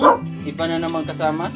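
A pet dog barks close by in a Philippine home, giving a loud bark and then yipping, whimpering calls, with people talking over it.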